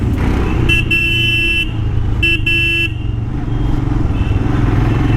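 A Royal Enfield Himalayan BS4 motorcycle on a road ride, its engine droning steadily up close while traffic horns honk in two bursts nearby.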